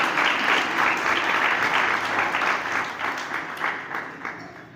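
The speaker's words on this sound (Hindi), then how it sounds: "ताली तो बजा दिया।" An audience claps and cheers at a BSNL retirement party, the dense applause close and loud at first and then thinning into scattered pulsing claps as it fades.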